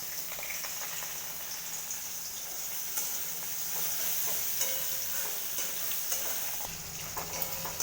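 Whole stuffed bitter gourds fry in hot oil in a pan on a gas stove, giving a steady, fairly close sizzle with faint crackles and occasional small pops, with no talking.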